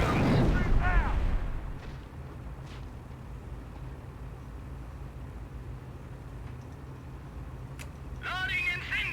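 In Company of Heroes, an incendiary mortar barrage rumbles with low, steady booming bursts. A voice speaks briefly at the start and again at the end.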